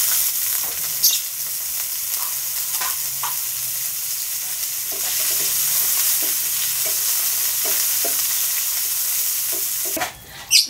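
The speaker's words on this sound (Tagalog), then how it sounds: "so sausage naman luto natin ngayon" Sausage frying in hot oil in a pan, a steady loud sizzle running throughout with occasional stirring clatter and a few sharper knocks near the end.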